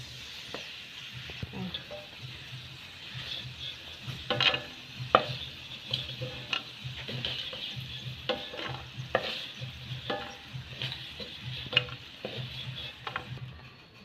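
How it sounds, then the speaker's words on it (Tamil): Semolina roasting in ghee for rava kesari, after plums and cashews were fried in the same ghee, with a soft continuous sizzle under frequent ladle scrapes and clinks against the pan, no voices. "அதே நெய்யில் இப்போ ரவையும் வறுத்தெடுப்போம்."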